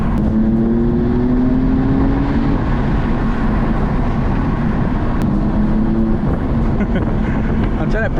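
BMW F80 M3 engine pulling hard while overtaking cars on a road, a loud continuous drone with rising engine tones, heard from inside the cabin with road roar throughout.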